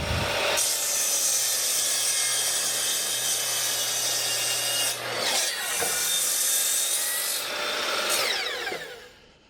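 Wooden trim end piece for a cattle windbreak being cut with a notch, heard as a steady, loud rasping saw or file stroke running continuously for several seconds, briefly pausing midway and again near the end before trailing off.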